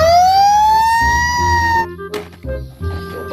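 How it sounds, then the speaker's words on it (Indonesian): An electronic toy fire truck siren wails with a rising harmonic tone for about two seconds, then cuts off, followed by brief clicks and handling noises. "Truk pemadam kebakaran."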